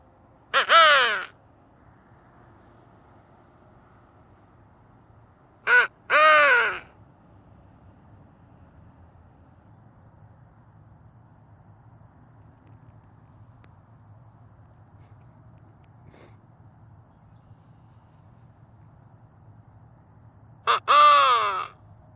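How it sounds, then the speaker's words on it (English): Harsh caws sound in a few separate bursts: a single call near the start, a close pair a few seconds later and another pair near the end, each loud and near against a quiet background hum. "We get one crow."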